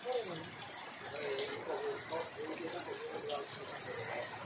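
Heavy monsoon rain pouring off a metal roof sheet, a continuous splashing gush of falling water, steady and fairly faint throughout.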